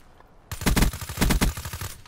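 Gunfire in the video game Call of Duty: Black Ops III, two rapid automatic bursts that start abruptly after a quiet moment, loud and close, with a short gap between them.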